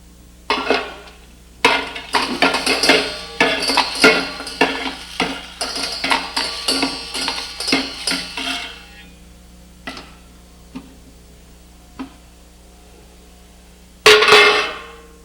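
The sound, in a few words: egg beater being cranked in a bowl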